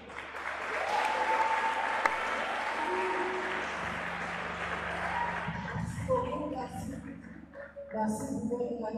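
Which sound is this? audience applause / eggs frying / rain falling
audience applause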